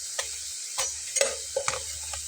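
A potato and red lentil snack fries in oil in a pan. A steady sizzle runs under about five brief scraping stirs of a spatula, with no voices.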